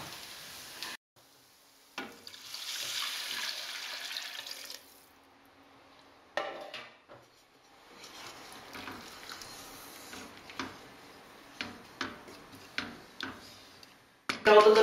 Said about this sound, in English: Now we add the stock.